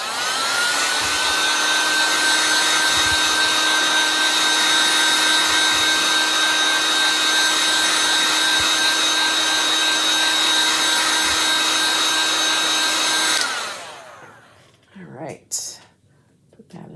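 A heat dryer blows steadily at close range to dry chalk paste on a handmade craft sign, a constant whooshing hum that runs unbroken for over thirteen seconds before cutting off, leaving faint handling noises.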